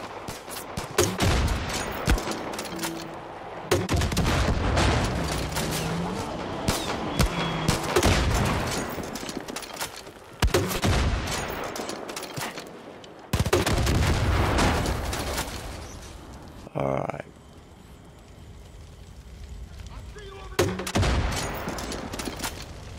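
Rapid bursts of gunfire and heavy booming grenade launcher blasts from the video game Far Cry 5, loud and dense with short pauses between volleys.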